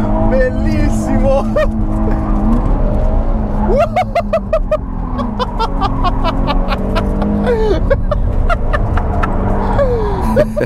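A Nissan 350Z engine revs hard with traction control off, a loud, close throaty drone rising and dipping with throttle, punctuated by chirping squeals and sharp bursts, while people talk and cheer over it.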